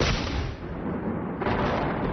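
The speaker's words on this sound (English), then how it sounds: "Suddenly, there was an explosion in his ear." A loud, sustained blast with a rumbling roar that swells again partway through, heard alone with no voices.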